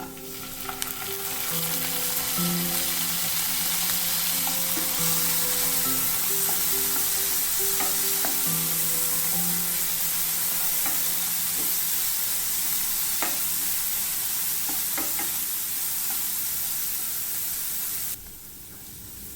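Onions and soaked moong dal are stirred as they fry for cabbage poriyal. A loud, continuous sizzle carries occasional spoon scrapes, soft music runs beneath, and the sound drops slightly near the end.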